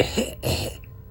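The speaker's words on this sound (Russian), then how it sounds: "Услышал кашель женский" A woman coughs twice in quick succession, close and moderately loud, then fades into quiet.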